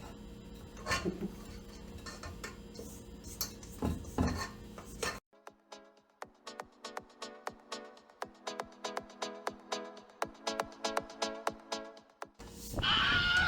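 A stand mixer bowl being twisted and pulled off its stand: after some handling noise come a long run of quick metallic clinks and rattles, close and sharp, ending in a louder clatter.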